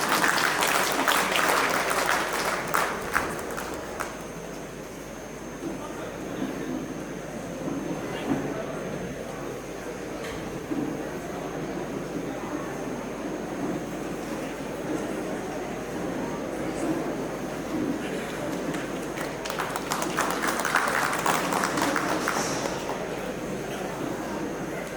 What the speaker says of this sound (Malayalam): നമുക്ക് കൈയടി കൊടുത്ത്